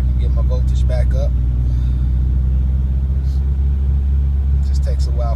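Northstar car engine held at a steady rev around 2,000 RPM, a loud continuous low rumble throughout with a voice speaking briefly over it.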